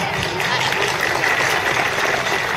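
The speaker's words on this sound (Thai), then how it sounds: "ขอเสียงปรบมือให้คณะจัดงานหน่อยครับ" Applause for the organizing committee at a school sports day, a dense, steady wash of clapping from a large crowd filling the whole stretch without a break.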